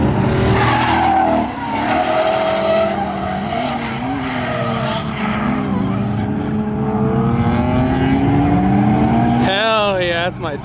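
A car spins through a full 360-degree drift, its tires squealing and skidding loudly in long wavering tones over a revving engine, with a sharp burst of squeal near the end.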